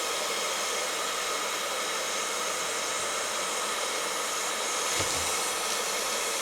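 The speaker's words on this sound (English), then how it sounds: "I don't know if you could hear that hissing." Electric kettle heating water toward a boil, giving a steady broadband hiss that holds constant throughout, close and fairly loud, with one faint knock near the end.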